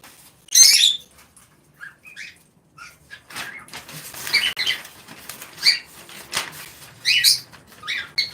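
Pet birds in a cage on a bird farm flap their wings in short bursts, with scattered chirps and rustles nearby, loud and close against a quiet background.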